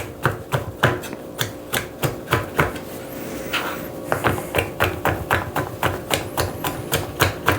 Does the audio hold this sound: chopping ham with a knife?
yes